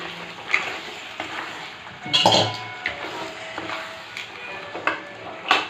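Crab pieces go into a pan with curry leaves for gravy, with clattering metal-on-pan clanks, a loud thud and scrape, then light sizzling and intermittent utensil clicks, close by and without talking.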